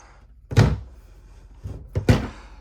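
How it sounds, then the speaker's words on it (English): Full-extension storage drawers in a 2025 Montana High Country 377FL RV sliding open and shut, two distinct thunks about a second and a half apart with softer rolling slides between, close and fairly loud, no talking. "Opening up some of this storage, we do have our 4 drawers right here."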